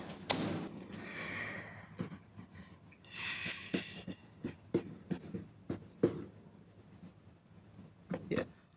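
Chopping on a cutting board, a run of sharp, evenly spaced knocks alone and fairly close, with a brief scrape and a burst of rustling in between.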